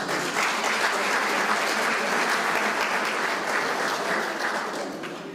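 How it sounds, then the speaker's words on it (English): A room of guests at a donors' appreciation reception applauds students, a steady, full round of clapping that holds evenly and tapers slightly at the close. "So please applaud all of our students who came"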